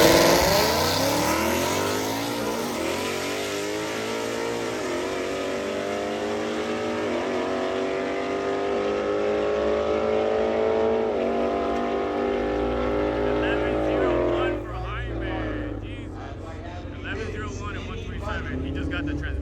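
BMW M2 launching down a drag strip, its engine revving hard through several rising gear pulls before easing off, loud and close with crowd voices underneath.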